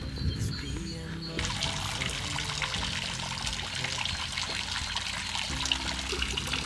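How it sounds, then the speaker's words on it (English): Water trickles steadily in a garden fish pond, a continuous close splashing dribble with a faint voice briefly in the background. "The gentle sound of water."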